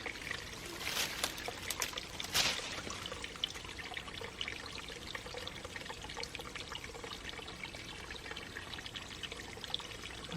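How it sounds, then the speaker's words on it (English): Steady stream of water pouring into an old stone-lined well at an abandoned 1800s farmhouse, a soft constant trickle with a few brief louder splashes near the start, no voices. "There's definitely water coming out of there."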